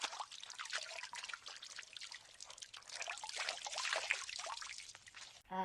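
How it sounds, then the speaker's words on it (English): Hands being washed under a running kitchen tap after cracking eggs, a steady close splashing trickle of water that runs unbroken for several seconds before a brief pause and a final gush. "I'm just going to wash my hands because I've just cracked the eggs"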